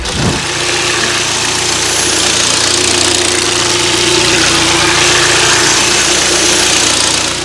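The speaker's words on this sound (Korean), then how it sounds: "이제 시동 걸어놨으니까 엔진 소리까지 한번 들려드리도록" A Kia K7's engine idles loudly and steadily up close, a constant low rumbling hum with no knocking and no talking.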